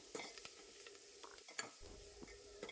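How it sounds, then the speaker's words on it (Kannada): Ground cumin and garlic paste fries with asafoetida in a small pan for tomato rasam: faint, close sizzling broken by sharp spoon scrapes and stirring clinks, with no voices. "1 ನಿಮಿಷ ಇದನ್ನು ಫ್ರೈ ಮಾಡ್ಕೊಳ್ಳೋಣ."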